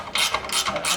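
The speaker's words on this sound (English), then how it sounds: "I've just taken out the bolts here in the back, and now the muffler is loose" A ratchet wrench turning out the exhaust bolts on a 2018 Harley-Davidson Softail Milwaukee-Eight, a few quick, close clicking bursts in a brief sequence.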